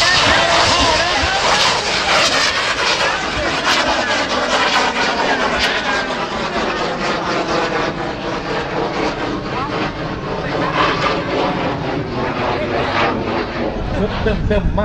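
A bang fai rocket launch at a rocket festival in Kalasin, Thailand, with a loud, steady roaring thrust that runs unbroken for the whole stretch while a commentator talks over it.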